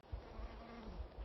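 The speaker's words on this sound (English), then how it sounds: "Don't know if you could hear that bee." A bee buzzes close by on a hiking trail in Zion National Park, a continuous droning hum that wavers in pitch over a short stretch.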